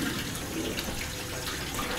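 Cold water pouring steadily into a backyard pool, a continuous close, broadband splashing rush with no talk.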